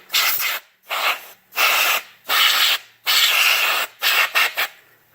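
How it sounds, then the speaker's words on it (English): Compressed air from a nearly empty can blows dust off a Hunter ceiling fan motor in six short, loud bursts of hissing spray, each about half a second to a second long, with no talking. "here's the motor. I have a little bit of compressed air left."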